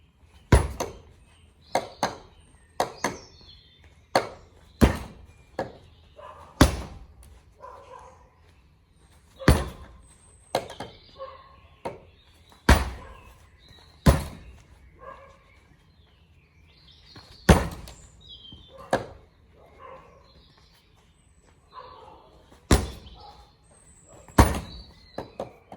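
Kicks land on a Jayefo heavy bag filled with cloth strips and sand, loud dull thuds coming one at a time in irregular bursts with quiet gaps, close by.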